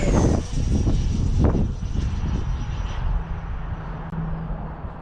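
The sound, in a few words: FMS Avanti RC model jet flying on a windy day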